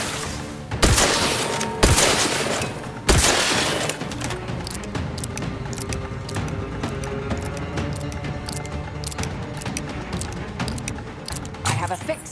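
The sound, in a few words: gunfire in The Outer Worlds video game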